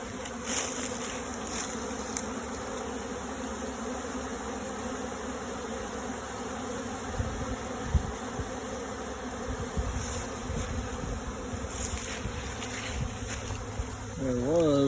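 Honey bees swarming out of a hive during an inspection make a dense, continuous buzzing hum that fills the air close around, steady and unbroken with faint wind.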